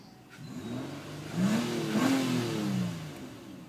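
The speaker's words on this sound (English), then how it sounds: "I like the sound of this V6" A 2012 Nissan Altima Coupe's V6 engine revs up and holds a smooth, rising roar before easing off, heard alone at moderate distance.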